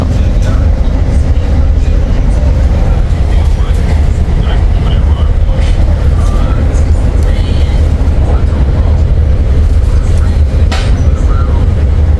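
Inside a passenger train running to Venice, Italy, a loud, steady rumble of the carriage fills the space, with occasional clacks and rattles over the rails.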